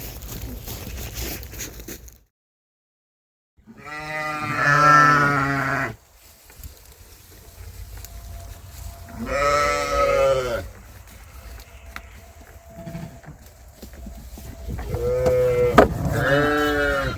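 Sheep and newborn lambs bleating on a farm during lambing season, several long, loud, wavering bleats close by separated by quieter stretches, with a short silent gap early on.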